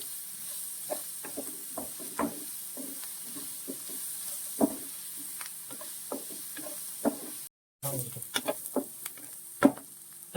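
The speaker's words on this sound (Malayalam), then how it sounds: "നമ്മുടെ സവോള ഇഞ്ചി പച്ചമുളക് നന്നായിട്ട് വഴണ്ടിട്ടുണ്ട്" Onion, ginger and green chili sauté in a pan for a prawn roast, with a steady sizzle beneath repeated close spatula scrapes and knocks in an uneven rhythm; no one speaks, and there is a brief dropout near the end.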